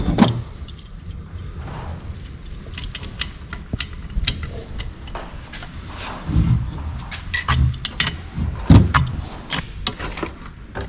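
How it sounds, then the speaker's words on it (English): Metallic clinks, ticks and scrapes of a wrench working bolts loose on the impeller housing of a Mercury 9.9 Big Foot four-stroke outboard, in irregular close bursts with a few heavier knocks. "We're going to take out these 3 bolts and slide this impeller housing up"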